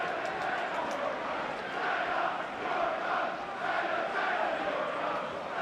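Football stadium crowd at a Luton Town versus Manchester City FA Cup match, a distant, steady roar of shouting and chanting rising and falling in waves, with no clear single voice.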